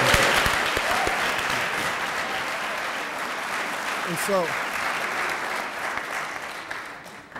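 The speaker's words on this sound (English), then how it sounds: "Let's clap it up." An audience at a community jazz brunch in Joliet, Illinois breaks into loud, sustained applause that starts strong and slowly tapers, while a voice speaks briefly over the clapping.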